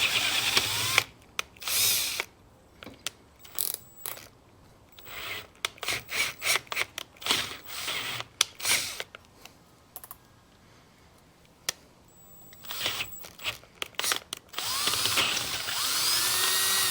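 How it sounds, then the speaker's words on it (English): Intermittent bursts of a drill boring with a 21/64 inch bit to prepare for a 1/8 inch NPT tap on Harley Davidson intake breather parts, whirring spurts separated by pauses and scraping handling noise. "For our 1/8 inch NPT tap, we need a 21/64 drill bit"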